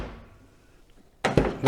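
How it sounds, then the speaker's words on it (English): BMW Z4 car door shut close by with a dull, hollow thunk followed by a second rattly knock, after a quiet fading tail from an earlier sound. "Probably the two worst sounding doors I've experienced."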